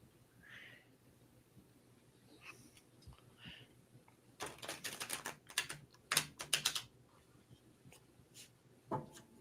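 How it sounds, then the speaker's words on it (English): Crisp, rapid riffling bursts of a stiff new tarot deck being shuffled, a few quick runs in a quiet room with a faint earlier rustle. "I love the sound of new cards being shuffled"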